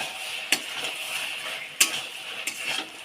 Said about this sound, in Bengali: এবার ভালো করে নাড়িয়ে ফেলবো